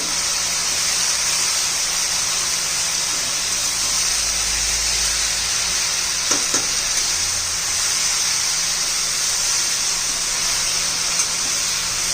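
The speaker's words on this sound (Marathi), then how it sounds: "তরকারি একটু মিক্স করে নেব" Mustard leaf curry cooking in a pan and being mixed, with a steady, loud hissing sizzle throughout and a few faint scraping touches of stirring near the middle.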